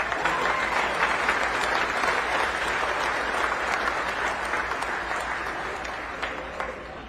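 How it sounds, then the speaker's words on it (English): A crowd at a memorial tractor pull selection ceremony gives the winners a strong round of applause, dense steady clapping that tapers off slightly toward the end. "Let's give these guys a round of applause"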